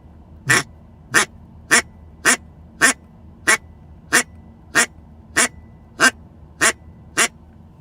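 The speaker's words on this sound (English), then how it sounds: "the mallard hen, you know, she actually quacks. So it'd be like this." A duck call sounds a mallard hen's quack, about a dozen short, even quacks at a steady pace, clear and alone.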